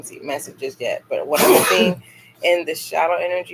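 A single sudden, loud sneeze bursts out in the middle of a woman's steady speech during a live podcast reading, close and noisy, and her talking resumes right after it.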